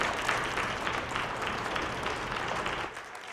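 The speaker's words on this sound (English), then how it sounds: "Let's give a round of applause to all of the teams that competed this weekend." Applause for basketball teams at a 3x3 U18 national championship, a steady wash of many hands clapping from a crowd that holds even for several seconds before easing slightly at the end.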